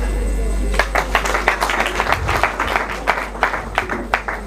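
Audience applause at a gala evening in the Democratic Republic of Congo: a steady patter of clapping from a moderate crowd, with a low hum running underneath the whole time.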